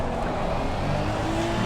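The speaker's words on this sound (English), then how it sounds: "God, this car's loud." A GT3 race car in a sim racing game roars loudly at Red Bull Ring, a dense, continuous engine drone with rising pitch as it accelerates.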